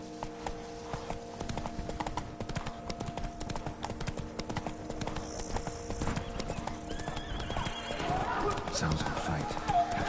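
Geralt's horse Roach gallops in The Witcher 3 with rapid, rhythmic hoofbeats and a whinny, set in the Toussaint region, accompanied by a voice and background music.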